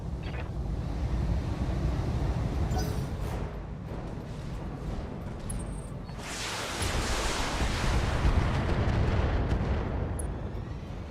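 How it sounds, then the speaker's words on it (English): Mech in the video game BattleTech firing all its weapons at once, a dense, sustained roar of overlapping blasts and booms that swells and continues for several seconds, loud and with no talking. "Firing all weapons."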